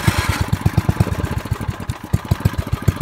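A small Manco ATC three-wheeler engine running rough on a dirty carburetor, a loud close rapid putter with uneven pulses that falters and sags as it struggles to keep running.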